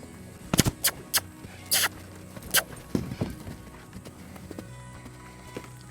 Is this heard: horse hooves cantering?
yes